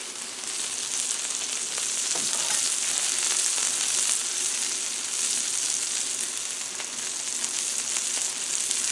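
Smash burgers frying on a Blackstone griddle, a loud, steady hiss and crackle of fat that holds evenly up close throughout, with a brief scraping moment partway through.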